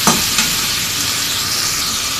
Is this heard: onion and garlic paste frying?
yes